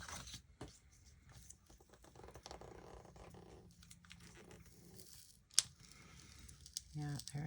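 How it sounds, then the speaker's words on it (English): Paper tears and crinkles as a sticker is peeled off a planner page, with scattered close rustling and one sharp rip standing out amid quiet handling noise. "the paper had started to rip on me when I was trying to take it off"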